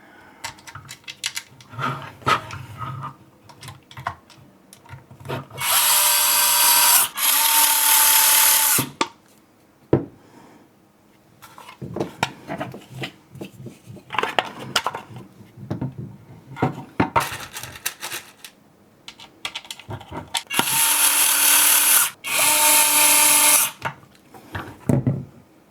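A power driver runs screws into a card shuffler assembly, with two loud sustained whirring bursts separated by quieter clicks, taps and handling of small parts.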